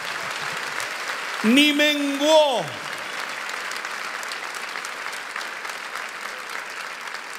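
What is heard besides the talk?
congregation applauding in church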